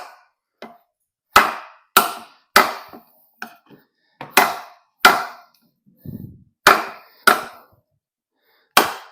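A Yewu drop point knife with a 14c28n steel blade chops a small hard log: about a dozen sharp, close woody thwacks land in an uneven rhythm, each one clear and separate against quiet.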